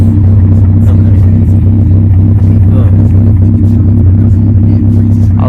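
An Acura Integra with a muffler delete idles and revs with a loud, deep, steady exhaust rumble close by, heard from just outside the shop.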